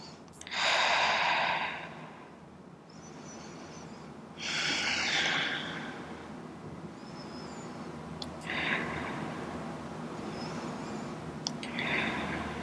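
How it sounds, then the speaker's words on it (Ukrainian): Slow, deep breathing during a yoga relaxation rest: loud airy exhales come in long whooshes separated by quieter inhales through the nose, repeated about four times close to the microphone, with no talk. "Вдих через ніс, видих через рот."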